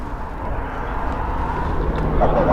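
An AgustaWestland helicopter approaches during an RAF Waddington exercise, a low rumbling engine drone that builds slightly in loudness over a few seconds against broad outdoor noise.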